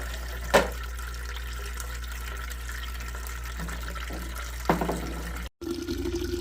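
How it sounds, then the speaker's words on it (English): Apple juice for cider poured from one bucket into another, giving a soft, continuous liquid trickle and splash over a low steady hum, with a couple of brief knocks and a short cut near the end. "We'll pour some out of one bucket, dump it into the other, and just kind of recircle a few times until we get a good mix."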